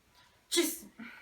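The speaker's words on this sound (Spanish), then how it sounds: "Esta es la respuesta que esperamos, que sería el estornudo" A single sneeze triggered by stimulating the nasal mucosa with a fine cotton wisp during a neurological reflex exam, a short sharp burst followed by a softer trailing breath.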